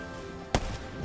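A single sniper rifle shot fired in the video game Black Ops 3, one sharp loud crack rising above a soft background of game ambience, with a short decaying tail.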